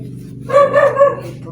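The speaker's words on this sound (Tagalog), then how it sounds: "ingay ng mga aso" A dog barks three quick times in a row, fairly close, over a low background hum.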